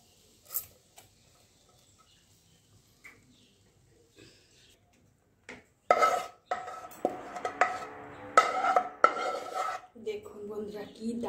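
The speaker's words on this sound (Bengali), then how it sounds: "এবার একটা পাত্রের মধ্যে আমি ঢেলে দিচ্ছি।" Sweet, sour and spicy tamarind pickle being poured and scraped into a bowl. A few faint clicks come first, then a run of close, irregular metallic clinks and scrapes of a utensil against the dishes.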